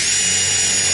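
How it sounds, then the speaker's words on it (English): A power drill runs continuously, boring holes for screws, with a steady loud high-pitched whine and no pauses or talk. "why are you putting holes in those places? Because I need to put in some screws where I don't have holes."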